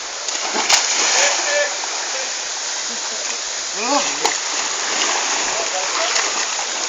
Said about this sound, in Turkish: Hırsız'ın suyu gölünde atlıyoruz beyler.